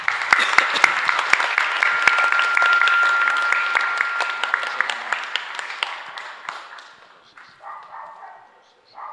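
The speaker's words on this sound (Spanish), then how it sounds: "un fuerte aplauso para ellos también entonces" Enthusiastic applause from a congregation during a Mass in a chapel, steady clapping that swells and then tapers off, with a few voices and a tone underneath.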